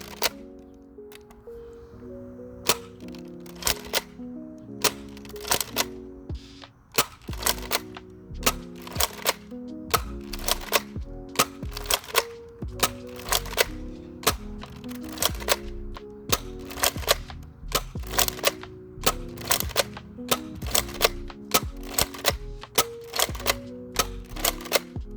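Nerf Elite 2.0 Shockwave blaster firing Elite 2.0 darts: a long series of sharp, close plastic snaps, roughly one per second, each followed by brief mechanical clacks of the priming slide and the rotating cylinder.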